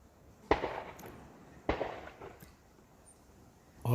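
Two sharp rifle shots crack from a nearby rifle range beside a walking track near Albany, each followed by a short echoing tail, over quiet outdoor background noise.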